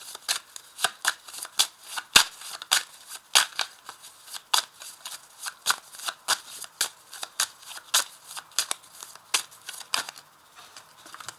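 A deck of 32 playing cards is shuffled by hand, giving a quick run of crisp, riffling card snaps in a steady, uneven rhythm, close and moderately quiet, with no voices.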